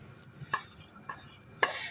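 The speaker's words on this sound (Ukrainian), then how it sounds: "Беремо ложечку добре перемішуємо." A spoon stirs thick batter for lazy khachapuri in a bowl, giving three soft scraping knocks against the side at an unhurried pace, close and fairly faint with no talking.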